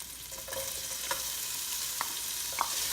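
Ginger sizzles steadily in a hot pan with faint scraping stirs, a continuous bright hiss broken by a few small ticks and clinks.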